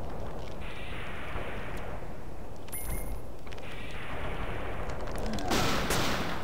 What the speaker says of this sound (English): Watch the explosions.